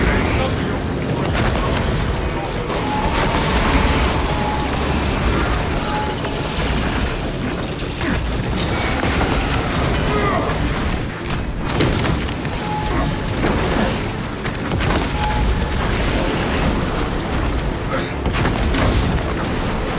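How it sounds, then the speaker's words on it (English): Fragmentation grenades detonate in Warhammer 40k Space Marine 2 combat, a dense run of booms and rattling gunfire layered over a constant loud battle din with no clear pauses. "Throwing fragmentation grenades."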